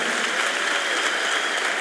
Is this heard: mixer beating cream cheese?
no